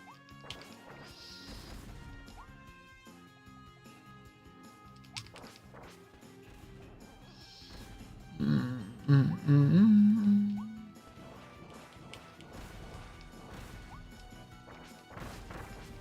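Chain bomb explosions in the video game Kirby and the Forgotten Land: a short burst of several crunchy blasts in quick succession over a steady bed of game music and effects.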